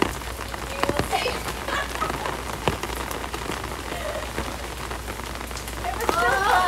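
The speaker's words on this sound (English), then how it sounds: "It was so fun until it just keeps raining more and more." Rain falls steadily on an outdoor surface, a dense close patter of drops with scattered louder taps, while a person talks intermittently over it.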